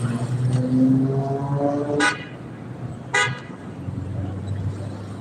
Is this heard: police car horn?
yes